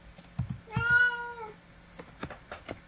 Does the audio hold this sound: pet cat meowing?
yes